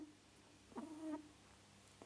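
Small rabbit purring from a played video, a soft low rumbling burst with a faint higher tonal edge near the middle, quiet and brief against a faint background hum.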